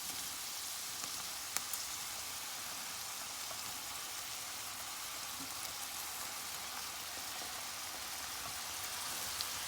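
Chopped tomatoes go into onion frying in butter, giving a loud, steady, close-up sizzle with faint scattered pops and no talking.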